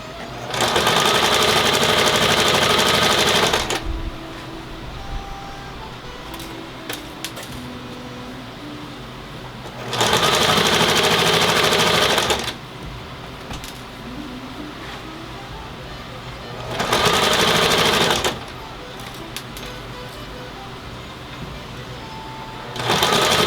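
A sewing machine stitches a fleece computer monitor cover made from an old curtain valance, running in three loud, steady whirring bursts separated by quieter pauses with faint handling sounds.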